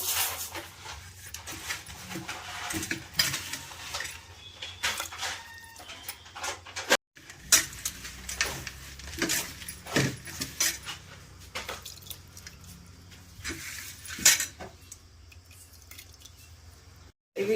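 A spoon stirs jaggery into milk in a pot, making intermittent scrapes, soft clinks and wet sloshes at close range, with brief pauses between stirs and no speech.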